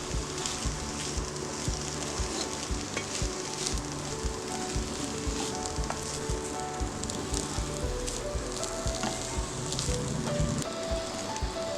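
Vegetables and rice stir-frying over full gas for a desi Chinese dish, a steady dense sizzle and crackle throughout, with faint scraping as the mix is tossed; no one speaks.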